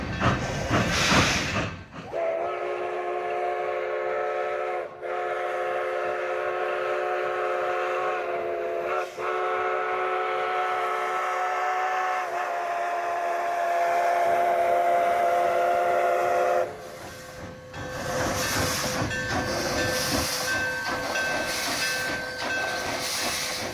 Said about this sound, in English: overlooking the train yard for the Durango-Silverton train that we're going to take tomorrow